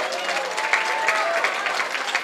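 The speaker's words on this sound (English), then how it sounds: "Let's give our freshman football players a round of applause, please" A crowd applauds freshman football players at a fall sports introduction event, with dense, sustained clapping and scattered cheers and whoops, while faint voices murmur beneath.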